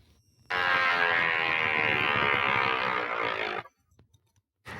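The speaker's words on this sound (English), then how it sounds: "This will create a power saw cutting sound" A yo-yo spun against paper makes a loud, steady buzzing whine with a harsh saw-like edge for about three seconds, then cuts off abruptly, followed by faint clicks and a short burst.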